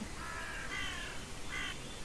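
Crows caw in modded Minecraft, with two or three drawn-out calls heard at moderate distance over a steady background hiss.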